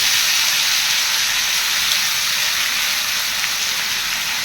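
Potatoes fry in a pan of hot oil already tempered with nigella seeds, a loud continuous hissing sizzle that stays close and steady with no voices.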